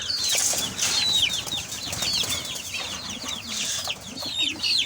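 Busy chorus of naked-neck chickens clucking and squawking nearby, with bursts of wing flapping amid the steady farmyard noise.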